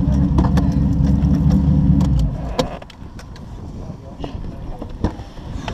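A TVR sports car engine drones loudly and steadily while driving on a Peak District road, then drops away to quieter road and cabin noise with a few clicks and knocks.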